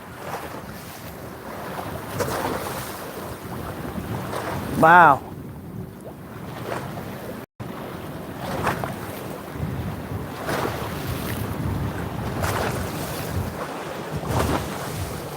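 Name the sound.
waves from a passing boat's wake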